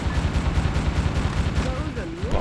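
Rapid turret gunfire from a tower in Metal Wolf Chaos, a steady dense rattle of low thumping shots under a rumbling game mix, with a short whistling tone near the end.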